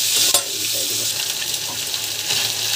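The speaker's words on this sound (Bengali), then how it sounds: "আমার লেট্টা মাছ ভাজছি" Loitta fish frying in a pan gives off a continuous close sizzle with faint crackles, steady for a few seconds with no talking.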